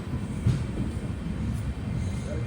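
Mangaluru to Rameswaram Express rolling along, a low steady rumble of the carriages heard from inside, continuous and moderate with no voices.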